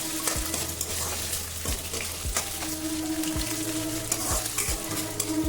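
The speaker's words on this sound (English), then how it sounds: "Fry the paneer for a few seconds till the color turns golden brown." Steady sizzling of paneer shallow frying in hot mustard oil, with a few soft clunks of a utensil stirring in the pan.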